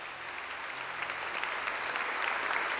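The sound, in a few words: congregation applauding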